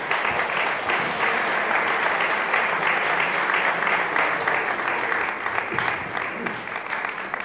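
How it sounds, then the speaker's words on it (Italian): An audience at a press conference for a charity running race applauds, giving a sustained, dense round of clapping that holds steady and then slowly tapers off. "un grande applauso per Bruno D'Alessio."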